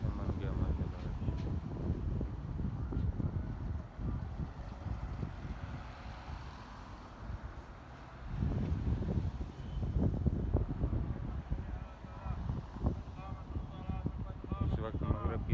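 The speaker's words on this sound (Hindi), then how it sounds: "ठंडी ठंडी हवा चल रही है" Steady cool wind in Madinah rumbles and buffets against the microphone throughout, a low continuous roar with gusts swelling midway.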